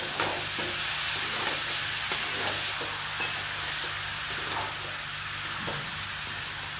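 Bottle gourd frying in a pan for a prawn curry, with a steady broad sizzle and irregular scraping stirs throughout, close and fairly loud, no talking.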